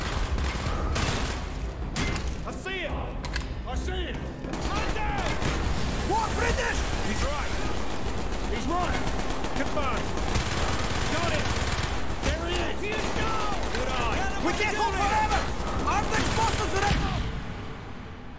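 Sustained gunfire in the Call of Duty Black Ops campaign, dense rapid shots and machine-gun bursts nearly nonstop, with scattered in-game voices under the noise.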